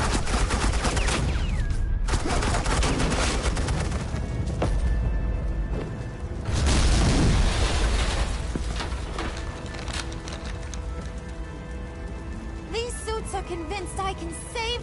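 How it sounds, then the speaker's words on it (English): Agents laying down suppressing gunfire in Batman: The Enemy Within, a dense, continuous burst of rapid shots and booms lasting most of the stretch, loud and close, easing into a quieter scene near the end. "suppressing fire"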